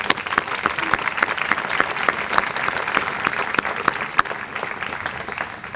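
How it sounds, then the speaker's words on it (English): A crowd at Sanford Upper School's 2021 commencement ceremony applauds, producing a steady, even stream of many hands clapping at moderate volume with no voices standing out. "Let's give them a round of applause, please."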